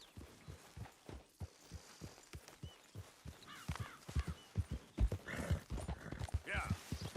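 Horse hooves in the Red Dead Redemption 2 video game, a rhythmic clip-clop of hoofbeats picking up pace, with a whinny and game sounds partly under speech.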